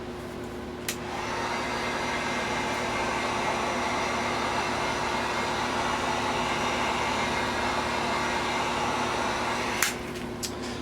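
A hair dryer blows on a freshly painted model kit nacelle, switching on with a click and holding a steady loud whooshing hum for about nine seconds before cutting off.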